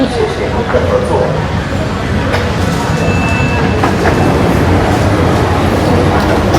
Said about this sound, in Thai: รถไฟมาแล้วรอ